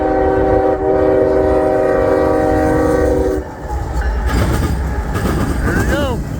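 A westbound CSX coal train led by two locomotives passes close by in Ohio, with a loud, steady rumble, a horn tone sounding over it at first, then the rhythmic clatter of wagons rolling past.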